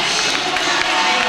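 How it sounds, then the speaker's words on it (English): Steady broadband roar of a gymnasium crowd at a Class 2A regional final volleyball match, moments before starting lineups are announced, with indistinct chatter and faint thuds beneath, continuous and fairly loud throughout. "you can hear the crowd as the starting lineups are about to be announced in here"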